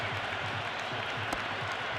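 A stadium crowd in the Cricket 26 video game cheers and applauds steadily throughout, a dense, loud wash of clapping and roaring with no clear break.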